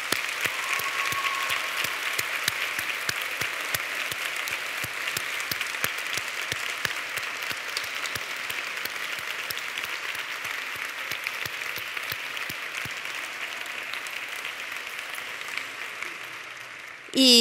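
Graduates and guests in a courtyard at a university graduation ceremony keep up loud, steady clapping for about seventeen seconds. It stays dense and even, then cuts off sharply with a brief final noise.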